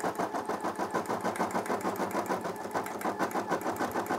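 A Brother SE600 embroidery machine runs steadily, stitching a double outline around a bag in a design, its needle chattering in a fast, even rhythm, close and continuous with no voices.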